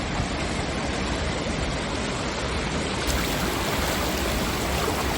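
Water pours steadily over the Bharatapuzha check dam in Palakkad, Kerala: a loud, unbroken roaring rush close by, dense and constant throughout, with no voices.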